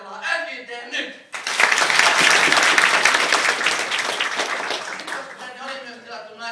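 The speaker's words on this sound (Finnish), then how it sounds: "annetaan sellaisen raikuvat aplodit, harjoitellaan NJT nyt!" Loud applause from an audience at a corporate event bursts in suddenly after a brief stretch of talk, holding steady and dense for several seconds before slowly thinning as a voice resumes.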